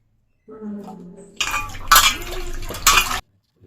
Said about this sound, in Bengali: আদা কেটে নিয়েছি। এবার আদাগুলো ধুয়ে নেব।